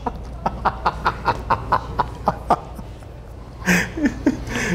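A comedian imitates a rooster with a string of about a dozen rhythmic clucking vocal bursts during a live stand-up set, followed by audience laughter.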